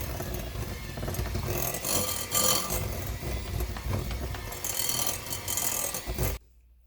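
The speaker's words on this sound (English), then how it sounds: "Now I'm just going to blend this all together." A hand mixer's beaters whir steadily through a bowl of herb butter mixed with black pepper, a continuous buzzing, rattling drone that runs close and loud before cutting off abruptly near the end.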